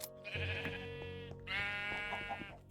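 Minecraft sheep bleating in the video game, two clear drawn-out calls one after another, close and loud with nothing else over them.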